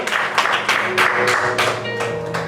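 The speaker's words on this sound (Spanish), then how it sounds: "Alguien que le dé un aplauso fuerte al Señor" Church congregation applauding loudly for the Lord, a series of strong clapping bursts in a hall with a few thuds between them.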